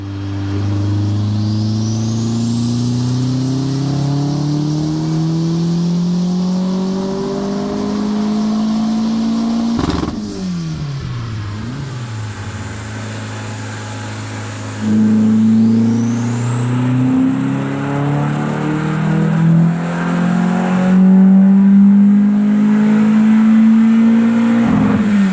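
Mitsubishi 4G63 engine in a Hyundai Sonata pulling at wide open throttle on a dyno, two long loud revving sweeps that climb steadily in pitch, with a turbo-like whine rising alongside and a sharp drop between pulls.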